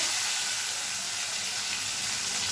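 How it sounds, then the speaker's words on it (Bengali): Potatoes fry in a pan of hot oil seasoned with five-spice and bay leaf, giving a dense, unbroken hiss that stays steady and fairly loud throughout. "আলুটাকে ভালো করে ভেজে নেব"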